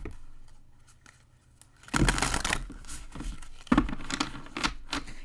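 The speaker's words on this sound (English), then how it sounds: "I shuffle my cards a few different ways before I pull for the next round" A tarot deck is shuffled by hand in close, papery bursts that start after a quiet stretch and keep going, with sharp riffling swells and softer slides between them.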